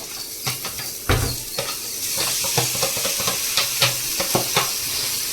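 Pieces of liver fry in a hot pan with a continuous sizzle, broken by repeated scraping and clinking as a spatula stirs them. The sound is close and busy, and no one speaks.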